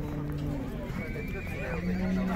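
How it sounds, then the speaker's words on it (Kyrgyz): At a busy horse market in Bishkek, a horse whinnies amid clip-clopping hooves, set under steady nearby talk and crowd murmur. "Бул жерде так аттардан."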